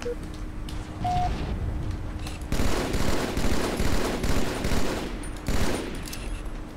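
Rapid bursts of automatic gunfire from Halo 2 on the Zanzibar map, dense and loud with brief lulls between volleys, alongside distant booms.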